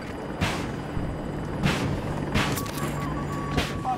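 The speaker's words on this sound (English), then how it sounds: "Chopper down there" In the video game Battlefield 2042, a helicopter hums steadily nearby, punctuated by several sharp bursts and a faint high beeping tone.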